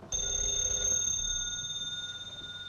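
A telephone bell rings steadily in a 1938 crime comedy film. The shrill, close ring sounds alone and fades slightly toward the end.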